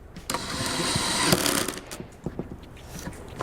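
A cordless drill drives a pocket hole screw into a wooden box joint with the torque clutch engaged. A whirring burst is followed by a string of sharp, rapid clutch clicks, close and fairly loud, with no voices.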